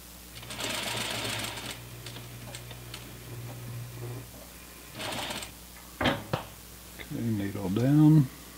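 A sewing machine stitches pant seams in short bursts, a close rapid mechanical whirring and ticking that starts and stops, with a person speaking near the end.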